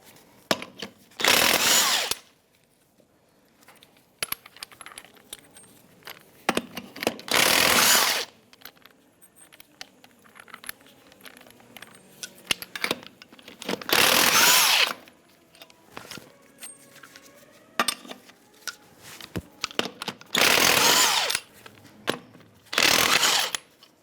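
Power tools work on the wheel of a 1992-1996 Ford F-150 as the tire comes off, with several loud bursts of whirring impact-wrench or drill noise separated by quieter clicks and handling sounds.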